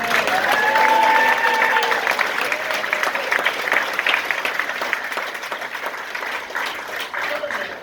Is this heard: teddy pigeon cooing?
no